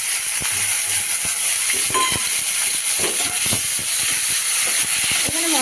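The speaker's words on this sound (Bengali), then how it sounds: "এবার এই মশলাটা আমি দিয়ে দিচ্ছি" Spice paste and ground tomato hit hot oil in a pan for a vegetarian potato and eggplant curry, giving a loud, steady hissing sizzle with scattered crackles and light clicks, close and continuous.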